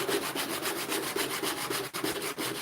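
Wood is sanded by hand in quick, even back-and-forth strokes, giving a close, steady rhythmic rasping and scratching with no voices.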